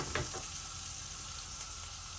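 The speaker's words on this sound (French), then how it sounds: "Je fais chauffer une poêle et j'y dépose une noisette de beurre" Butter sizzling softly as it melts and is spread across a hot frying pan, a steady close hiss with a couple of faint scraping strokes near the start.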